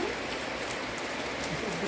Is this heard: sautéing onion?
no